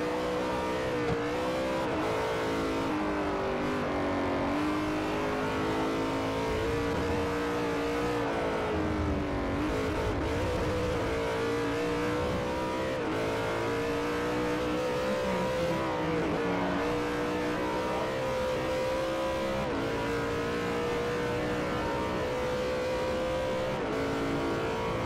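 A race car engine in Forza Motorsport 4 drones steadily throughout, its pitch rising and falling through gear changes and revs, loud and continuous with occasional tyre squeal.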